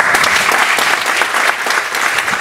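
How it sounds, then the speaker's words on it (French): Audience applause greets a female astronaut introduced at a space-themed public event, a dense, steady wash of many hands clapping close and loud for the whole stretch, with no voices over it. "que je vous demande d'applaudir."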